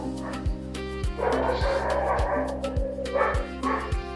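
A dog barks and yips repeatedly in sharp, regular bursts about every half second, loud and close, with whimpering cries mixed between the barks in a Nigerian drama scene.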